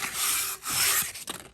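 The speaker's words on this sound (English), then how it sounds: "I'm going to take a little bit of sandpaper just to smooth these edges out" Sandpaper rubbing along the cut edges of a carbon water-fed pole in a workshop, a steady close scratchy rasp in two long strokes followed by shorter, uneven scrubbing passes.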